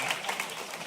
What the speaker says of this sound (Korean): 찬양대 하면서 한번 박수 드릴게요